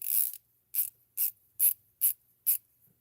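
A 72-tooth ratcheting wrench clicks in six short, crisp bursts with brief pauses between them, close up and alone with no voices.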